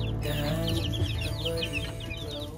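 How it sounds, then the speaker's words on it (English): Young chicks cheep in a rapid, overlapping chorus of high peeps, loud and close, over a low background rumble as they are moved into a new enclosure. "it's time to put the chicks in their new home"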